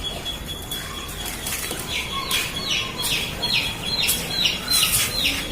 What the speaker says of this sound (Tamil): மொத்தம் என்கிட்ட ஒரு 20 புறா இருக்குது.